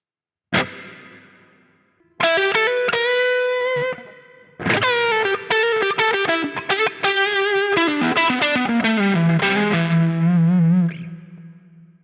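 A GTRS intelligent electric guitar plays a single struck chord, then a run of picked notes and chords, each ringing out with a spacious added reverb tail.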